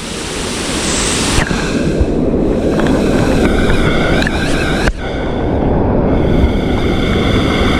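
Flooded river water rushing in full spate, a loud, dense roar of churning water that persists without a break, with wind buffeting the microphone and no talk.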